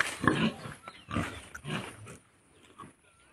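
A few short grunting snorts from pigs on a farm, close and moderately loud at first, then fading to quieter scattered sounds.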